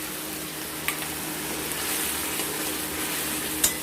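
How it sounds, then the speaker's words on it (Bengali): Spice paste sautéing in a pan for a pomfret fish curry gives a steady close sizzle and frying hiss, with a couple of soft stirring clinks and no talking. "বাটি ধুয়ে পুরো মশলাটা আমরা দিয়ে দিলাম। দিয়ে এটাকে সামান্য কষবো"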